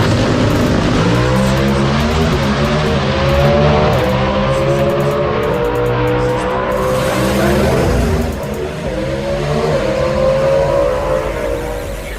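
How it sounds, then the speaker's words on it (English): Race car engines rumble loudly and steadily in the drag racing pits at Bradenton Motorsports Park, a close, sustained droning roar with shifting pitch and no talk. "We are cruising the pits at Bradenton Motorsports Park with my new buddy, Big Jeff."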